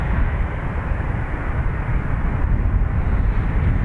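A Ryanair jet roars down the runway on takeoff at Dublin Airport, a steady, broad, loud engine rumble that holds throughout without any voices.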